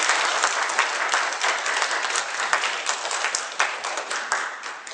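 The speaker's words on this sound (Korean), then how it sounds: "큰 영광의 박수를 한번 올립시다." A church congregation bursts into loud, full applause during a service, a dense, continuous roar of many hands clapping together, steady throughout without speech.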